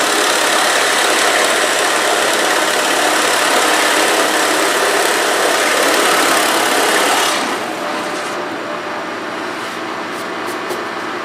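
A drill with a 1 1/8 inch bit bores a hole for black iron pipe shelves, its motor whining loud and steady under load, then easing off to a lighter spin as the cut finishes.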